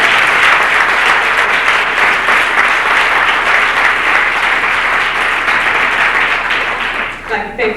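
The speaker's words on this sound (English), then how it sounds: "let's give ourselves a great big round of applause" An audience at a poetry event breaks into sustained, loud applause, dense continuous clapping filling the room and tapering off near the end.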